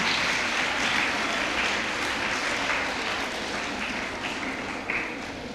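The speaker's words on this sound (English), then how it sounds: "let us extend a warm round of applause to welcome Mr. Krishnagant." Sustained audience applause at the ICON 2024 event, a dense even wash of many hands clapping that holds steady for several seconds and fades slightly toward the end.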